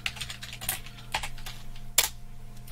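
Steady, fairly quiet clicking of keys on a computer keyboard during a Sims 4 session, with a few sharper clacks and a soft hum behind it.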